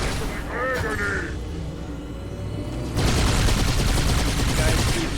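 Gunfire in the Halo 2 video game, a sustained burst of loud rapid shots that breaks in partway through, following a stretch of game sounds with voices talking.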